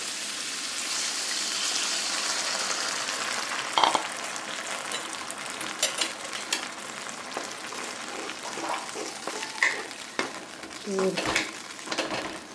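Chicken pieces fry in oil for chicken chilli, with an ongoing sizzle, occasional clatters of a pan and utensil, and some soft talk in the background.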